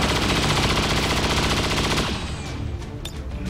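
Dense, rapid video game cannon fire blasting continuously for two seconds, then trailing off into scattered shots and echoes.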